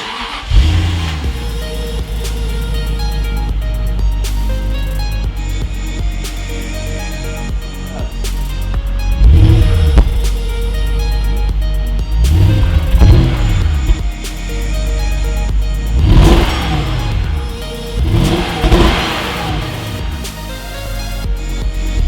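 A Jaguar XK8 cranks and catches after sitting unused for years, then idles roughly and is revved in several loud, rising bursts, close by with no talk over it.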